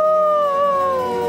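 A voice imitates a ghost howling for a Halloween cartoon scene from Fireman Sam, one sustained, wavering tone held close and loud.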